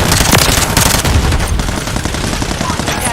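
Rapid automatic gunfire from a Call of Duty match rattles loudly and continuously in dense bursts, with faint voices mixed underneath.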